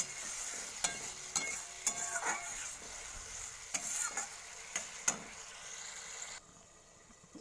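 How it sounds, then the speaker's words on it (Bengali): Spice masala for a pabda fish curry stirred and fried in a pan with a splash of water, giving a steady sizzle broken by regular scraping stirs, fairly close; the sizzle drops off near the end and no one speaks. "সামান্য একটু জল দিয়ে আমি একটু কষিয়ে নেব মশলাটাকে।"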